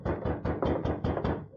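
A rapid series of seven firm knocks on a wooden door in an old radio drama, evenly spaced and loud, ending with a brief quiet tail.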